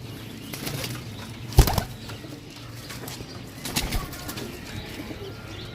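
Pigeons in a rooftop loft coo softly while wings flap in two short bursts, one sharp flurry near the start of the second half and another weaker one later.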